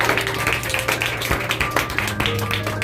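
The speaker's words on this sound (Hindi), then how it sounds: "चलो बजाओ फिर खुदावंद दे कलाम दी जोरदार ताली" A church congregation at a Punjabi-language missionary service claps loudly together, a steady run of sharp hand claps with a faint tonal hum underneath.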